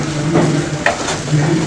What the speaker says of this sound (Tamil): இப்போ இது ரெண்டையும் வந்து நல்லா ஃப்ரை பண்ணிக்கலாம்.